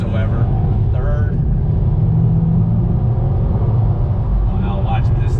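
A Subaru WRX STI S209 accelerates through the gears in a steady, loud engine drone, with people talking over it.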